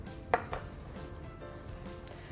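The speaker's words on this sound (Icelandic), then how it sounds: "Og prófaðu að hræra." Cheese ball dough being stirred in a bowl, faint scraping with a sharp utensil clink against the bowl and a few softer knocks, quiet and close.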